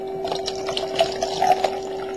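Cold water makes hot water in a vessel boil rapidly, giving a steady bubbling, gurgling wash with a constant underlying hum, close and continuous.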